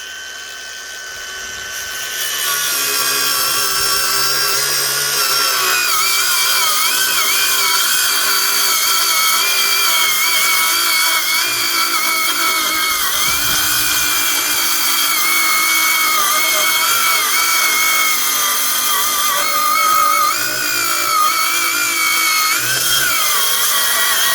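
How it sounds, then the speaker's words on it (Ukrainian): A power saw cuts steadily through a dry 30 mm hornbeam board, a loud continuous whining buzz that rises after a brief start and holds for over twenty seconds, close and alone. "Пробуємо, чи візьметься пилка його, чи не візьме."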